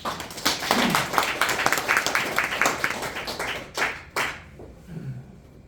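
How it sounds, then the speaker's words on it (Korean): Guests at a book launch and thanksgiving service for a poet's first collection clap as a pastor steps forward, a brisk run of hand claps that thins into a few scattered final claps and then quiet. "나오실 때 큰 박수를 하나 주시기 바랍니다."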